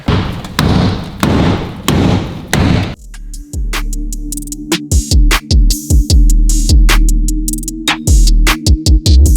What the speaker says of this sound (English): you're gonna have to bash that firewall sheet metal a little bit in, because it's just so tight